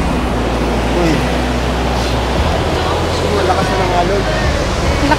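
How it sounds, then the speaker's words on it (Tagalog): Strong ocean waves crash and roar in a dense, continuous wash of surf close by, with people talking underneath. "Lakas na ng alon."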